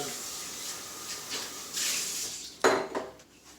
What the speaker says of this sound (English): Rinse out my bowl.